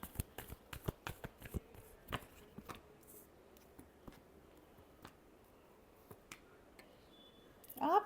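Tarot cards are shuffled by hand in a quiet room, giving a run of soft, crisp riffling snaps close by with no voices, thinning out toward the end.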